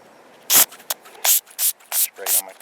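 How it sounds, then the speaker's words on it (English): Several short hissing bursts of cleaner from a spray bottle onto a camera, about five quick squirts in an uneven rhythm, close and crisp, with a brief voice near the end. "spray it on my camera."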